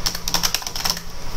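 A title is typed on a computer keyboard as a quick, close run of about a dozen crisp key clicks, with a brief pause midway before the tapping resumes.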